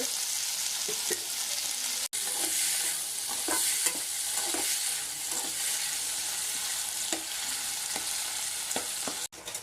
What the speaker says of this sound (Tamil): இது மாதிரி வதக்க வதக்க தக்காளி கொஞ்சம் அப்படியே சுண்டிக்கிட்டே வரும்